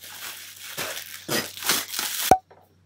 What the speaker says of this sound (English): so I'm gonna unwrap it.